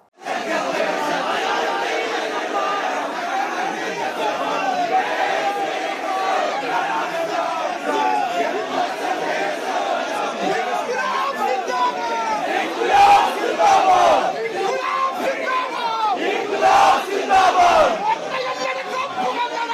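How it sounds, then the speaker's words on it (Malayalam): A large crowd of Congress supporters celebrates a first-ever win of two seats, shouting and cheering in a loud, dense, continuous roar that swells with sharper bursts of yelling toward the end. "ചില്ലറ ആർപ്പുവിളികളോ കരഘോഷങ്ങളോ ഒന്നുമല്ല ഇന്നലെ കാണാൻ സാധിച്ചത്"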